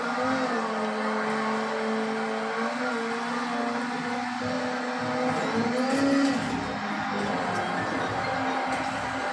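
Racing car engine in Forza Horizon 6 drones loud and steady throughout, a sustained high-revving tone with shifting pitch as the car keeps its speed without braking, accompanied by tyre and road noise.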